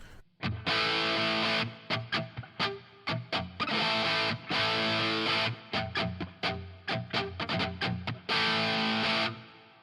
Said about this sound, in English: You know, that's still a lot of reverb.